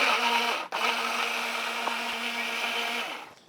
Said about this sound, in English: you want to turn this on and blend it until it's almost completely liquidy